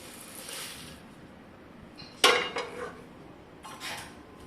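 Roasted red chillies and curry leaves shifted from a pan onto a plate, a sharp metallic scrape and clatter of utensil on cookware, followed by lighter rattling and a brief rustle.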